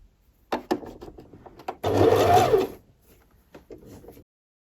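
A sewing machine stitching a fabric zipper pouch closed, a short burst of rapid whirring stitching lasting about a second, framed by quieter handling knocks and clicks before and after.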